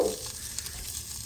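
Meat sears in a hot pan with a dense, crackling sizzle, moderately loud and continuous, with a slight stir near the start and no talking.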